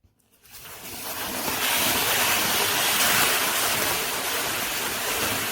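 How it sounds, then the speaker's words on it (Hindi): Water poured gradually into a hot pan while making plum cake: a loud, broad hissing rush builds within the first second and holds steady close by. "अब हम थोड़ा थोड़ा करके पानी डालेंगे।"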